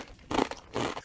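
Crunchy Calbee dashi-flavored potato chips being bitten, two loud crisp crunching bursts close to the mouth with a brief chewing pause between, no talking.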